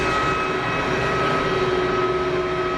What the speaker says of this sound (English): Let's watch this Swiss 320 roll out.